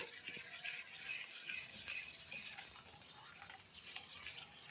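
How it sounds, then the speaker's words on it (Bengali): A homemade neem soap mixture is stirred by hand, a steady scraping and swishing of utensil against bowl with light clinks, moderately quiet and close, with no talking. "দিয়ে এটা খুব ভালোভাবে এটা মিশিয়ে নেব"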